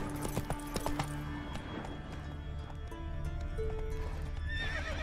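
A horse in The Witcher 3 video game whinnies loudly up close while its hooves clip-clop in a quick rhythm, then keep clopping steadily over a low game background.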